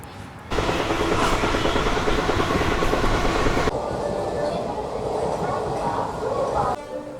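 The 17644 Circar Express between Rajahmundry and Gudur runs with a loud, continuous rumble and rattle of rail carriages from on board, shifting in tone partway through.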